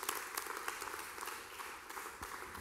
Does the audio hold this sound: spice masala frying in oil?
no